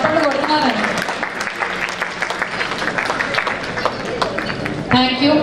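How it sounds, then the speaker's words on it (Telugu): An audience claps after a dance performance at an International Vysya Federation decade celebration, a dense burst of applause filling the hall, with a voice talking over it at the start and again at the end. "సో అలా చేతులు పైకి పెట్టి కొడితే అర్థమవుతుంది చప్పట్లు కొడుతున్నారని"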